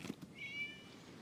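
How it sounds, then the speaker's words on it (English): A single cat meow in the video game Genshin Impact, a short rising-and-falling cry heard clearly over a low ambient game background with no talking. "It was just a cat."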